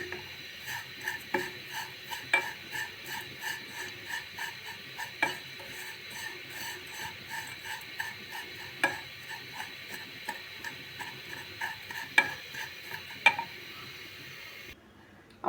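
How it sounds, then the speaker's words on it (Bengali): Vermicelli frying in a pan while being stirred, with a faint sizzle under regular, evenly spaced scrapes and clinks of a spoon against the pan. "এভাবে লাল লাল করে ভেজে নেব।"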